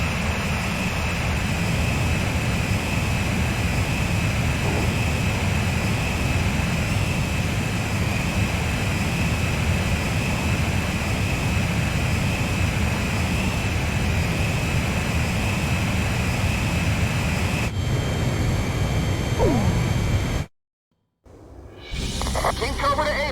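Jet engines roar in a steady, loud drone during aerial refueling in the Ace Combat 5 game, holding constant for about twenty seconds before cutting out abruptly near the end.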